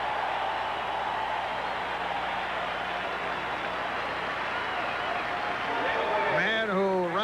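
A baseball stadium crowd at a 1987 National League Championship Series game between the Giants and Cardinals reacting to the Cardinals, a broad, steady roar of cheering and clapping with a voice speaking over it toward the end.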